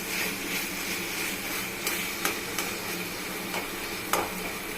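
Boiled shola taro greens with shrimp being stirred in a pan: a soft, continuous sizzle broken by a few sharp scrapes and taps of the spatula against the pan, close up, with no talking.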